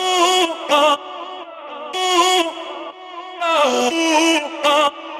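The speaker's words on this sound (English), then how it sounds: "So I made a completely different vocal chop melody that sounds like this." Vocal chop melody for a piano house drop, clipped pitched vocal syllables in a bouncing pattern with gaps between phrases, played alone and clean.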